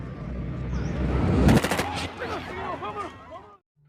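A burst of gunfire as police shoot a fleeing man, loud rapid cracks clustered around the middle of a dramatic scene, followed by fading tonal music and noise.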